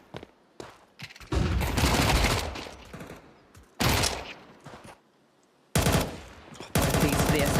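Rapid submachine-gun fire in a competitive tactical shooter match, several loud sustained bursts broken by short gaps, with quieter shots and clatter between them and no talking.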